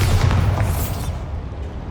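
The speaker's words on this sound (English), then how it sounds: "Bombarda." Bombarda explosion spell in Hogwarts Legacy, set in a goblin mine: a heavy, close boom with a dense rumbling body that fades out after about a second.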